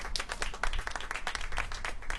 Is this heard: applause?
yes